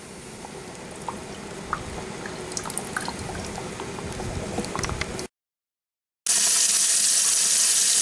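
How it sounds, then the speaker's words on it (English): A coffee maker bubbles and foams during a cleaning cycle, with scattered wet pops and gurgles over a low liquid hiss, then a brief silence followed by a louder, steady rushing hiss. "let it do this until it stops boiling or bubbling like this is, or foaming"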